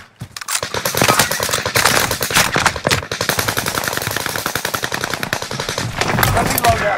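Near-continuous rapid machine-gun fire in the battle royale game Call of Duty: Warzone, loud, dense bursts lasting several seconds with faint voices underneath.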